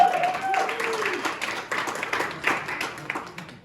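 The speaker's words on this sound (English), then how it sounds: "let's give us a round of applause" Audience applause at a motivational talk, a dense patter of many hands clapping at moderate distance that rises, holds and tapers over a few seconds, with faint voices underneath.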